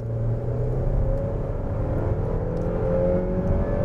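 A 2011 Saab 9-5 base model with a 220-horsepower engine accelerates hard, its engine drone and whir rising steadily as heard from inside the cabin, with no talk.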